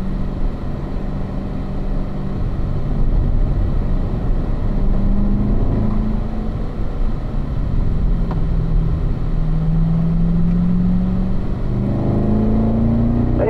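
A car driven on a track session through downhill curves, its engine a steady close drone that rises in pitch as it accelerates out of a corner, continuous with no talk.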